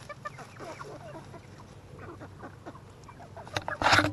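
Chickens cluck in soft, scattered bursts as they run off through a backyard chicken tunnel, ending in a louder flurry of clucking with no talk over it.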